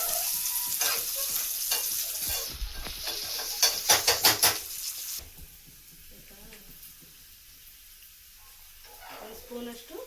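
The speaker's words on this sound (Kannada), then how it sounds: "ನೋಡಿ ಫ್ರೈ ಆಗ್ತಿದೆ." Mustard-style tempering of seeds and six chillies sizzles hard in hot oil for a village-style heerekayi bassaru, crackling loudly and close for about five seconds before settling into a softer, quieter fry.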